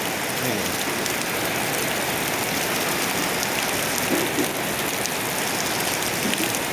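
Steady rain pours down in a dense, even wash of patter, loud and continuous with no voices.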